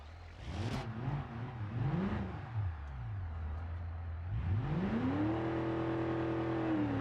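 A 1964 Gavril Bluebuck 353 engine in a video game, revving up and down a few times and then climbing steadily to hold a loud, sustained redline drone near 5,000 RPM.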